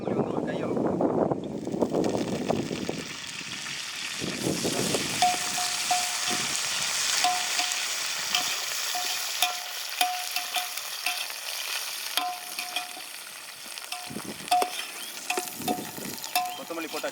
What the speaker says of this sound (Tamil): இப்போ வெங்காயம் வந்து நல்லா பொன்னிறம் வதக்கிடுச்சு. கொத்தமல்லி வந்து ஒரு கையளவு போட்டுக்கிறோம்.